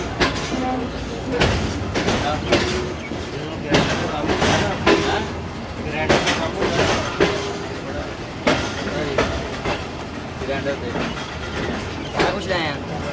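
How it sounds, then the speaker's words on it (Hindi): Rehman Baba Express pulling slowly into a railway station in Pakistan, with wheel clatter, rail clanks and carriage knocks in a dense, steady rumble, under background voices. "रहमान बाबा एक्सप्रेस आहिस्ता आहिस्ता से पहुँच रही है"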